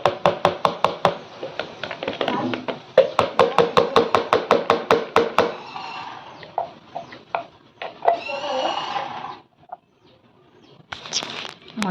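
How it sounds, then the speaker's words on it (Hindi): A knife chops onions on a board in fast, even bursts of sharp taps. Pauses separate the runs, and quieter handling sounds follow near the end. "तो मैं अब दूसरे बारी के प्याज को चॉप करूँगी"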